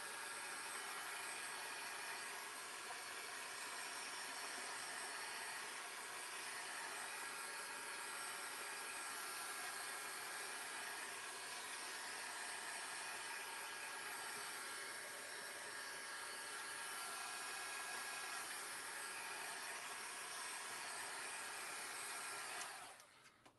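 A hair dryer blows steadily and loudly on freshly painted artwork, a continuous close whoosh that runs unbroken for over twenty seconds before cutting off abruptly at the end.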